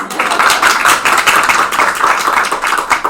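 An audience at a spiritual discourse breaks into dense, continuous applause, with many hands clapping at once in a steady, full-sounding wash.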